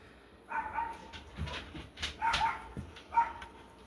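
Several dogs bark and yip in short bursts, somewhat distant, over quiet outdoor background.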